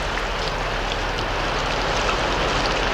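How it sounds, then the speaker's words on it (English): Rain hissing and steaming off hot surface rock, a dense, even wash of sizzling noise that holds steady throughout with no breaks or voices. "the rains came, hissing and steaming off the hot surface rock, until eventually the new crust cooled enough to hold the rain in pools"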